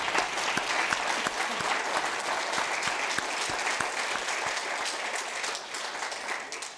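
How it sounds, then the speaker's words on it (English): A conference audience claps steadily and loudly, a dense wash of many hands sustained throughout with no voices over it. "So give yourselves a round of applause."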